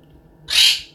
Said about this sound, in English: This bird needs to shut the F up.